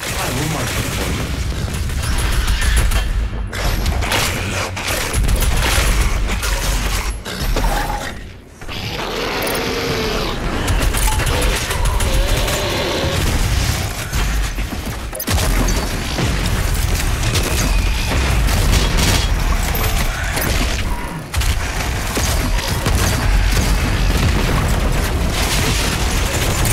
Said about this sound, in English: You could use both turrets to clear a path.